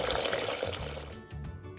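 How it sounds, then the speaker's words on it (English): Tap water pours and splashes into a pot holding dry pinto beans, a gurgling stream that briefly falters near the end, close and fairly quiet. "After you have your beans in the pot, you want to fill it with water about 1 inch"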